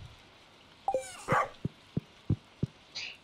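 A dog in the farming video game Stardew Valley barks several times in a quick, evenly spaced series of short, sharp yaps, with brief chiming game effects around them and no talking.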